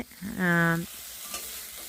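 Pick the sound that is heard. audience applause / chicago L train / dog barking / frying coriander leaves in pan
frying coriander leaves in pan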